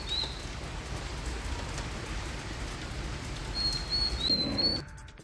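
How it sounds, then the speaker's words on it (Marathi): Drizzling rain in Navi Mumbai on a cloudy monsoon-onset day, a soft continuous hiss of light rainfall with faint bird chirps above it, steady throughout before cutting off at the end. "सकाळपासून पावसाची आता रिपरिप सुरू असल्याचं देखील आपल्याला बघायला मिळते"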